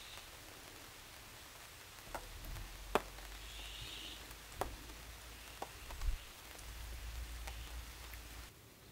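Rain falls at a campsite as a light, steady patter with scattered sharper drips and taps on nearby surfaces, and a low rumble underneath through most of the stretch.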